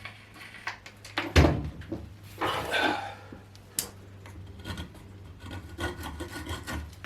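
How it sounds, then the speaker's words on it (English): A spoon scoops soft material out of a simple forge built from concrete blocks, giving close, gritty scrapes and rubs in several short strokes with a few sharper knocks between them. "You can scoop it out with a spoon or a knife or something like that."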